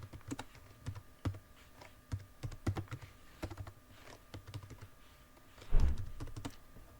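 Keys clatter on a computer keyboard while typing a document in Word, close and fairly quiet, with irregular bursts of sharp clicks and short pauses and no voices.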